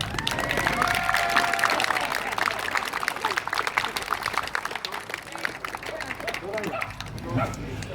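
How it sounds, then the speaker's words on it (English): An outdoor audience at the Eldonian Village Canal Festival claps steadily for several seconds, a dense patter of hands at moderate distance with some crowd noise mixed in. "I'd like everybody to clap Mike Carter."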